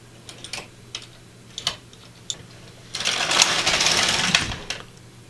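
An LK150 knitting machine carriage knitting a slip stitch row, with a few scattered clicks of needle selection followed by a sustained rasping, clattering sweep as the carriage passes across the bed, close up and alone.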